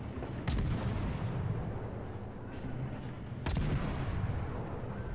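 Naval gunfire in the World of Warships game, two heavy booming salvos about three seconds apart over a constant low rumble of engine and sea ambience.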